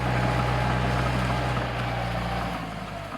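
A Kubota M6240 tractor engine runs steadily and close by during sugarcane planting, a loud continuous drone with strong low harmonics that eases slightly toward the end, with no voices.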